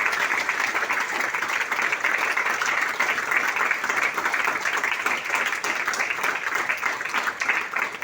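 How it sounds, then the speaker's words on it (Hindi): An audience applauds Roshan Ara at a DXN training program, dense steady clapping from a crowd that fills the whole stretch at an even, loud level. "एक जोरदार ताली होनी चाहिए रोशन आरा मैम के लिए।"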